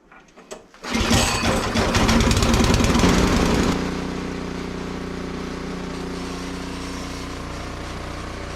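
A PowerSmart 24-inch snowblower engine catches after a brief sputter, roaring loudly and steadily for a few seconds before settling into a lower, even idle that continues to the end.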